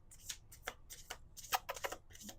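Tarot cards being shuffled by hand, a run of crisp riffling bursts in quick irregular succession, close and clear with no talking.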